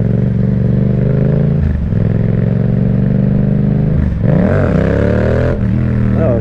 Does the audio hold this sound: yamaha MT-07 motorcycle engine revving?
yes